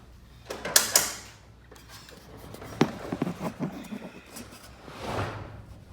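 A garage door on a high-lift track with LiftMaster 8500W jackshaft openers rattles and clunks as it moves, giving scattered mechanical knocks and creaks, then a softer rolling rumble.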